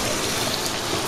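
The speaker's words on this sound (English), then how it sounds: "Saute them a bit." King prawns sautéing in a pan with red pepper powder, a dense, loud, even hiss of sizzling oil filling the whole short moment, with no voices.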